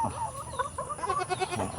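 A goat on a farm in the morning bleats in close, wavering cries, a couple of quick calls one after another with no talking.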